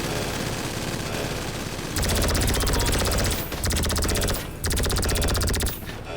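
Laser gun fire in GTA V gameplay as loud, rapid continuous bursts over a helicopter's steady drone, with three long volleys separated by brief gaps.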